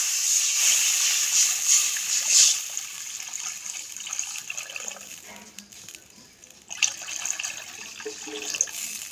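Water poured into a kadai while cooking a vegetarian sour taro (kochur mukhi) dish: a steady hissing splash of pouring liquid, strongest in the first few seconds, then lighter trickling and a brief renewed splash near the end.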